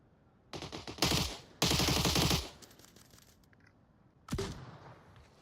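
Gunfire in the VR shooter Onward during a competitive match: three loud bursts of rapid automatic fire, the middle one longest, followed after a pause by a shorter sharp burst, with no talk over it.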